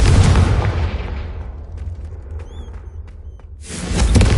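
The Confringo fire spell explodes in Hogwarts Legacy as a loud, booming blast that rumbles and decays over about two seconds. A faint chime rings in the quiet gap before a second heavy burst erupts at the end.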